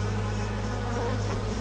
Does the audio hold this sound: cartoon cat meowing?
no